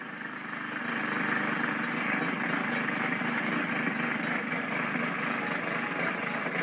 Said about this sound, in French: la tondeuse passe